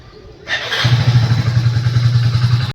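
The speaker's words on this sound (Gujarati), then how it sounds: "આ રહ્યું આપણું બાઇક, ચલો એને સ્ટાર્ટ કરીએ અને નીકળીએ" A motorbike engine cranks and catches, then settles into a steady, loud idle that runs on, with brief clatter at the start and a thump near the end.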